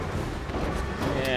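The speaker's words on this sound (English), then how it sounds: "Clear, open fire." Dense, continuous gunfire from an APC patrol in Spider-Man, a rumbling barrage of booms blending into a heavy roar with voices mixed in.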